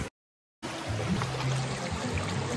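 A forest water stream on a trek through the Seshachalam woods flows in a steady, broad rushing wash; it starts after a brief cutout of near silence, then continues close and even with no voices.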